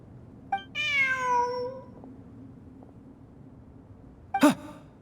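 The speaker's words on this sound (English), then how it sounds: "Look! A cat!" A cat in Genshin Impact gives a long, clear drawn-out meow, then after a quiet pause a second short, sharper meow, both close and alone over faint background hum.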